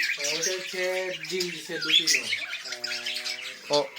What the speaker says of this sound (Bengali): তার মানে অনেক পাখি আপনার এখানে আছে